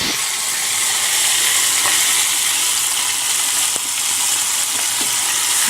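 Squid fries in a hot pan, giving a steady, close hiss and sizzle that holds for the whole stretch with a few faint clinks, and no one speaks over it.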